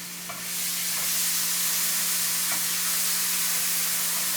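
Minced onion, tomato and jalapeno sizzle steadily in a hot pan, a continuous loud frying hiss with faint crackles and spits.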